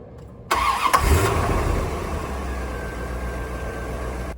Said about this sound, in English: What I'll do now is we're going to start the engine